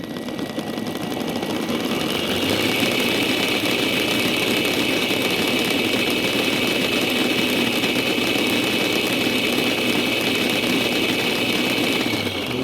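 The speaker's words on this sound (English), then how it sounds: "then we set the wheels in motion" A 5 inch gauge Class 31 model diesel locomotive with its wheels spinning freely on a test, giving a steady, loud, continuous whirring hum that holds evenly throughout with no talk.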